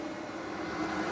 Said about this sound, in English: all the background noise you hear is my 12 volt inverter where it's ramped up feeding this power station